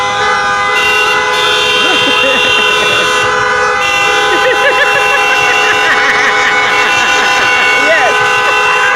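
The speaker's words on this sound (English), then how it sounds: "honking" Car horns blare continuously in New York City traffic, several overlapping tones holding long, loud and near, with short toots popping in and a voice talking underneath.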